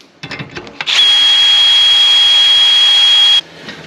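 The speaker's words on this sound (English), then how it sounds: "we can put a lot more pressure and drill right through that aluminum quite easily." A power drill, helped by a spritz of oil, bores through an aluminum camper van door, a few short starts then a loud steady high whine for about two and a half seconds before stopping.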